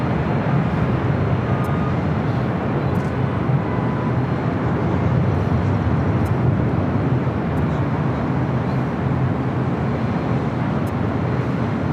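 A Philippine Airlines airliner takes off from LAX runway 25 right, its engines a loud, steady, broadband roar that holds unbroken from start to finish.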